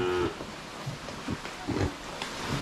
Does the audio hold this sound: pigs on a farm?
yes